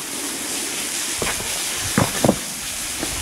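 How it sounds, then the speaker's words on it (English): A waterfall in a gully in the Blue Mountains makes a constant broad rushing hiss. A few brief footstep-like knocks and scuffs sound close by over the steady roar. "And we have before us a waterfall"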